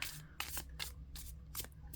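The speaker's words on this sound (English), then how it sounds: "see how much easier this is to shuffle?" A Wonder World Tarot deck being shuffled by hand, several quick riffling bursts of cards flicking together in an irregular rhythm, close and fairly quiet with no talk.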